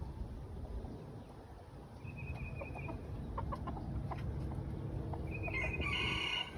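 Roosters crow in the distance amid steady background noise, with scattered clucks and bird calls from backyard chickens, a louder crow rising near the end.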